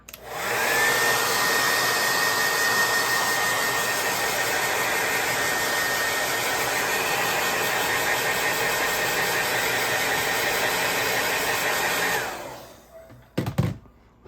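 A loud, steady hair dryer whirs over acrylic paint for about twelve seconds, with a faint whine, then switches off, followed by a couple of brief knocks.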